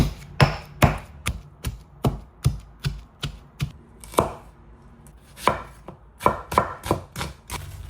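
Goat meat is chopped with pepper and ginger on a board in a steady series of sharp, close knife strikes, about twenty evenly spaced thuds with short gaps between, heard alone without talk.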